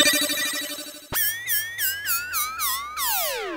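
A mobile phone rings with a loud electronic ringtone, a quick run of rising melodic chirps repeated several times, close and alone, with no one speaking.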